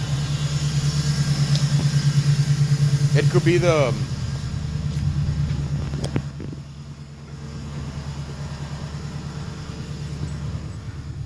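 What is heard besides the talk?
car engine revving high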